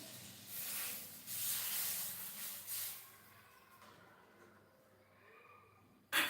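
Loud hot sizzling hiss as tempering with red chillies hits a pot of dal, strong for a few seconds, then fading to a softer crackle before a short sharp noise at the end.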